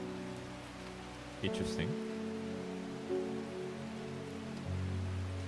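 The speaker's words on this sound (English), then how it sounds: "I know this game's very comfy with the rain sounds, the little candle going." Steady rain patters softly and continuously in the cozy occult puzzle game Strange Horticulture, a gentle wash under a brief spoken comment and faint low interface tones.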